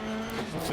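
A handbrake-induced slide in a racing game: a short, loud burst of engine tone with tire squeal and skid noise, close and continuous for under a second, no voices.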